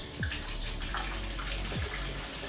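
Milk poured into a container while making coconut dindim, a continuous liquid splashing and gurgling stream, close and moderately quiet, with no talk.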